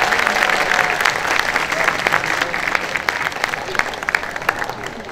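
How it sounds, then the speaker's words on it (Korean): A crowd's applause after a Ukrainian performance at an outdoor festival in Itaewon, Seoul, dense and sustained clapping from many hands that fills the whole stretch, loud and close, gradually easing toward the end. "여러분, 다시 율리아와 나탈리아한테 큰 박수를 부탁드립니다."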